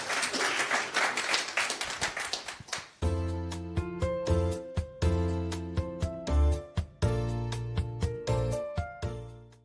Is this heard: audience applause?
yes